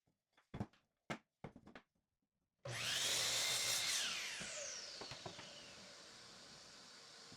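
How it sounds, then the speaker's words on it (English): A few sharp clicks and taps come first, then a miter saw roars up loudly and cuts a 2x4 at an 8-degree angle before its motor winds down and fades, with small knocks near the end. "go back on the miter saw to cut the sides at 8 degrees"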